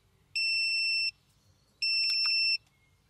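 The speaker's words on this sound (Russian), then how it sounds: "Снимаем его. И снова мгновенный сигнал тревоги." A Jansite solar-powered TPMS tire pressure monitor sounds its alarm: two clean, loud electronic beep bursts, each lasting under a second, with a short pause between them and a faint low hum underneath.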